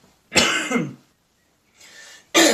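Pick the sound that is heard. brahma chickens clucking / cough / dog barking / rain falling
cough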